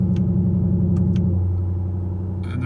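A 2020 Shelby GT500 engine idles with its exhaust switched to quiet mode, a steady low rumble that settles slightly lower and smoother midway, with a few brief clicks over it and no one talking.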